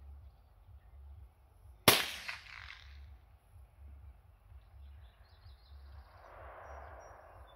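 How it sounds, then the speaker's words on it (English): One sharp gunshot cracks outdoors in dense air, then rolls away in a long fading echo over a quiet background with a low rumble and a few faint bird chirps. "That was just one shot."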